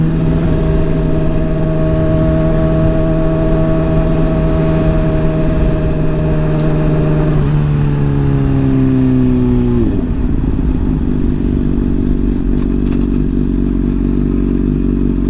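Honda CBR600RR sport bike engine idling steadily up close, its pitch dropping in two steps as the revs settle back to a low, even idle, with no talking.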